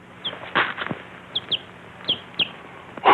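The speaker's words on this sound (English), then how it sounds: "A chicken?" A chicken clucking in short, sharp bursts with a flutter of wings, fairly close against a quiet background, the calls spaced irregularly over a few seconds.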